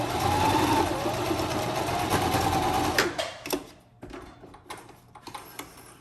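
A sewing machine stitches a small patriotic mini flag pillow in one steady, fairly loud run of about three seconds, then stops, leaving a few brief handling clicks and rustles.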